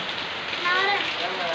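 Rain falls in Karur as a dense, steady hiss of drops on surfaces, with faint tonal sounds briefly mixed in.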